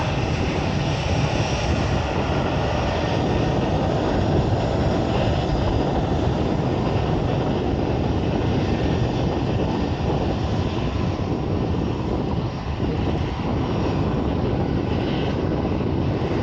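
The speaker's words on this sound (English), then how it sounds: "And as one takes off, an EasyJet CO is just taxiing out there." EasyJet Airbus A320 taking off from Manchester Airport while another jet taxis, heard as a continuous loud, steady roar of jet engines without talk.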